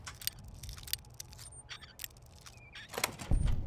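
A door lock is picked in Fallout: New Vegas: a quiet run of small metallic clicks, taps and scrapes, with a louder rattle near the end and no talking.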